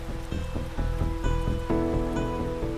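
Steady rain patters on a surface, with a dense spray of drops and a continuous wet hiss throughout.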